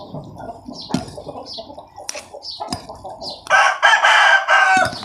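Chickens cluck and a rooster crows at midday in a Thai rural yard, steady clucking giving way to a loud, bright crow near the end, with faint wing flaps.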